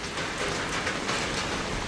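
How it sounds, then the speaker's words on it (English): Very heavy rain pours down in a steady, loud hiss during a thunderstorm in the Philippines, a dense unbroken wash of drops with no voices. "the intensity of rain is so high"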